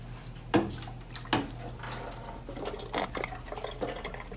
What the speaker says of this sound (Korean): 안에 꿀꿀꿀 하면서 물이 들어가는 소리가 들립니다.